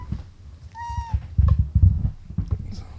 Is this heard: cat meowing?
yes